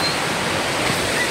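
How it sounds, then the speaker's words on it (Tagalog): A river in Buscalan flows with a steady broadband rush of water, continuous and fairly loud. "May ilog. Ayun, nakikita niyo. Ayun, ang ilog."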